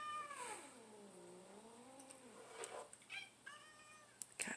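Cats meow in a quiet home where a dog is new, one long drawn-out wavering meow followed by several shorter, fainter mews, with a couple of sharp noises at the end.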